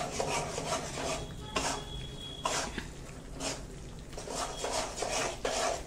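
A spoon scrapes and rubs through wheat flour roasting in ghee for kada prasad halwa, producing close, repeated rasping strokes with occasional clinks against the pan.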